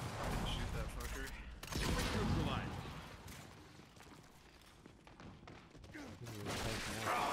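Gunfire in the video game Gears of War 5: muffled bursts and thuds of shooting, mixed with game noise and lying under talk.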